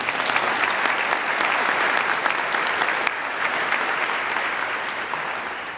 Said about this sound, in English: How about one more round of applause for our awardees today?